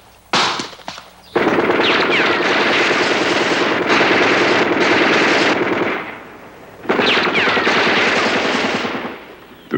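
A Soviet AK-47 rifle fires long automatic bursts of rapid, loud gunfire at close range, with brief pauses between the sustained volleys.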